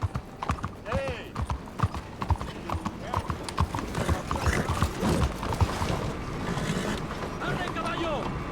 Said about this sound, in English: ¡Arre, caballo!